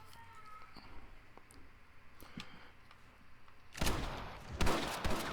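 Gunshots ring out in Red Dead Redemption 2: scattered faint cracks at first, then a louder cluster of close shots toward the end.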